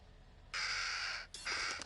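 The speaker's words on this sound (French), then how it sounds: "Ta gueule, corbeau!" Crow in the horror video game Little Hope gives two loud, close, harsh caws in quick succession, the first longer than the second, over a quiet dark background.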